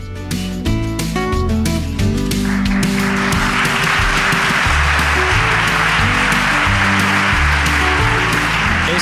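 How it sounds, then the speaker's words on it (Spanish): A live audience bursts into sustained applause at a show, a broad dense wash of clapping that swells and holds over music playing underneath. "Este aplauso es porque saben que viene el cuento de Callejo"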